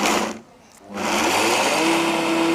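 A Vitamix blender breaking down nuts for tomato soup roars loudly and steadily up close, cutting out briefly before spinning back up with a high whine.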